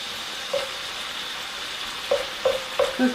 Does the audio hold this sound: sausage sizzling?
yes